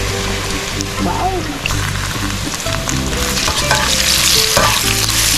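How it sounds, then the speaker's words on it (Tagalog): Sliced saba bananas fry in hot oil with a steady, dense sizzle and bubbling crackle throughout, with occasional stirring scrapes and faint background voices. "Ipiprito lang natin to guys hanggang sa maging golden brown."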